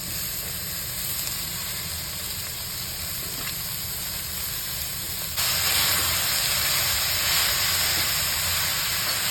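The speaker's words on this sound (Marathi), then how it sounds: "आणि आता कांद्याची पाट टाकून घ्यायची" Chopped spring onion greens hit a hot pan with turmeric in a Marathi home kitchen, giving a steady broadband sizzle and hiss that grows louder partway through as more greens go in, with no talking.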